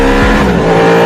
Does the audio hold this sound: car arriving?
yes